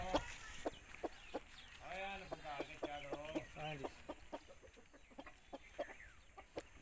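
A Lasani mushky cross aseel rooster gives a run of close, throaty clucks and a drawn-out call in the middle, with someone speaking briefly and a few sharp clicks scattered around.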